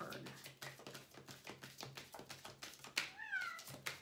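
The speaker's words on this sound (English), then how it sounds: "don't start your meowing now" A pet cat meows indoors, several quiet calls spread through a few seconds, with faint tapping and a soft voice in the background.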